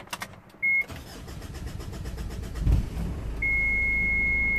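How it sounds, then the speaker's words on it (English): A Mitsubishi Shogun with an HBB brake fault cranks and starts, settling into a steady idle, with a warning beep sounding before the start and again once it runs. "But I'm gonna start the engine."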